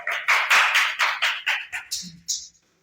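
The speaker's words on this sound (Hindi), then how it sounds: "जोरदार तालियां बजाइए आप लोग" A classroom full of students claps in rhythmic bursts about every quarter second, loud and close, then trails off abruptly, with a short voice sound near the end.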